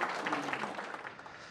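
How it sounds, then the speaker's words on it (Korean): Applause from leaders and attendees at a memorandum signing after a summit, a steady patter of many clapping hands held at a moderate level for a short burst with no talking. "양 정상은 박수를 치며 양해각서를 체결했습니다"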